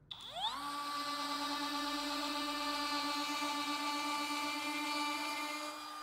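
A TECEPO 21V cordless brushless router spins up with a rising whine and then holds a steady, bright high-pitched drone for several seconds at the edge of a piece of wood, with no talking.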